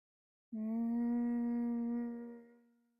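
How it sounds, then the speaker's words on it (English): A steady, gentle hum on a single low pitch, rising in softly and sustained for a couple of seconds before fading out with the breath. "think about letting the bee breath be this gentle humming"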